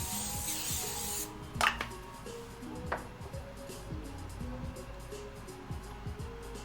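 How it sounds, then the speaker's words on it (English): A brief hiss of canola oil cooking spray greasing a pan opens the moment, followed by soft clatter against a steady low background hum. "I don't have any soft butter, so this is what you get. You get canola spray."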